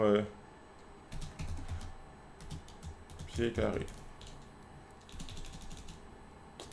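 Computer keyboard typing in short clattering bursts, close and moderately loud, with someone speaking French over and between the keystrokes.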